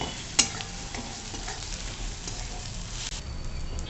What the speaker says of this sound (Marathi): आता छान असं परतवून घेऊ